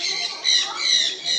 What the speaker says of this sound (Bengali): অলরেডি পাখির ডাক শুনতে পাচ্ছিস?